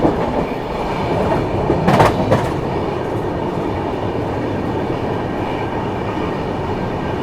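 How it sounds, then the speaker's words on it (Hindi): A train runs through Manwal railway station on the Delhi–Srinagar route, a steady loud rolling rumble with a brief brighter screech around two seconds, close and continuous throughout. "अभी अपनी ट्रेन स्किप कर रही है मानवाल रेलवे स्टेशन"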